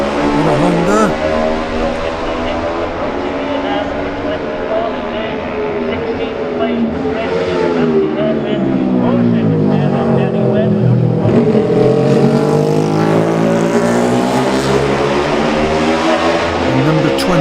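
Classic Honda racing motorcycles in the 2018 Classic TT junior race scream past at full throttle, their loud, close engine notes rising and falling in pitch as each machine passes.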